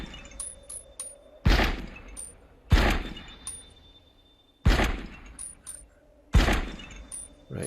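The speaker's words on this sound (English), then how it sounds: "So you aim and then you fire." Rifle shots fired in the Light Brigade video game, four sharp loud cracks spaced a second or two apart, each with a short decaying tail, alone without talk.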